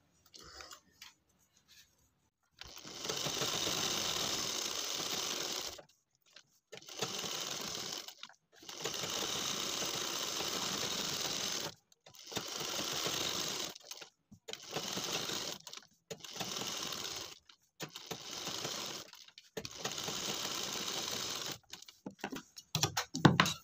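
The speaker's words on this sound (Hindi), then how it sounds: "अब हम यहाँ पर सिलाई लगाना शुरू करेंगे।" Sewing machine stitching homemade cloth slippers, a series of close whirring bursts of one to three seconds separated by short pauses, with no talk.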